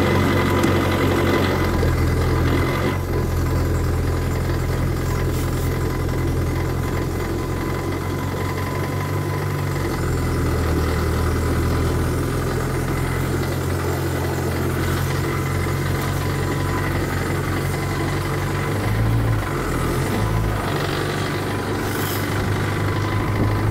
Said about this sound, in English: fuel pump's going. And there we go, there's ignition.